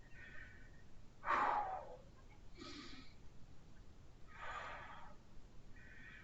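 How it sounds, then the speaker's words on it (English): Deep, slow breaths during a shoulder blade squeeze exercise in a strength workout, with a loud inhale-exhale burst followed by several softer breaths at a steady rhythm and no talking. "Deep breath."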